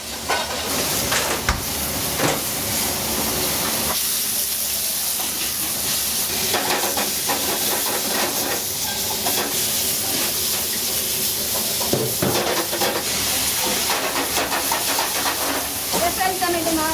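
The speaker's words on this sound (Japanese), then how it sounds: "野菜炒めてます。" Vegetables stir-frying in a pan in a busy late-night Sanuki udon shop, producing a loud continuous hiss and sizzle with repeated clanks and scrapes of tossing, while voices talk faintly in the background.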